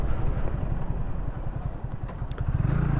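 A motorcycle rides along a highway, its engine giving a steady low, rough rumble heard close from the rider's position, with some clattering and rattling over the continuous drone.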